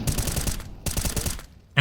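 Two rapid bursts of automatic gunfire from a weapon spray in Counter-Strike 2, each lasting under a second with a short gap between, loud and close, followed by a sharp single report at the end.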